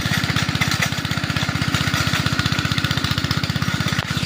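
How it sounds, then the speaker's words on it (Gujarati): A small tractor engine runs on a farm with a loud, fast, steady chugging pulse that stays close and even throughout, with no voices. "એ ટ્રેક્ટર હાંકે મશીન જોવો ને"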